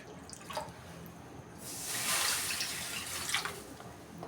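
Water is poured into a bowl to make sugar syrup for a wheat-flour sweet, a soft splashing stream of a couple of seconds amid quiet kitchen background and a few faint drips.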